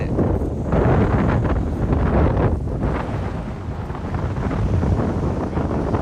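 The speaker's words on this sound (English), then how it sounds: "It's very windy." Strong wind gusts buffeting the microphone on the open deck of a Mediterranean cruise ship, a loud, constant roar with surging gusts and possible water noise below.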